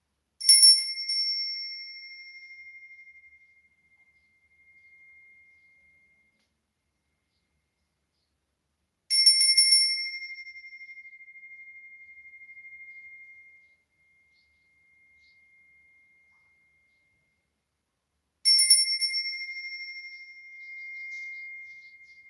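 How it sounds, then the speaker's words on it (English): A meditation bell used in a home practice space strikes three times, about nine seconds apart, each a clear bright ring with a long ringing tone that slowly decays into silence. "I'm just going to use my bell from my practice, meditation practice."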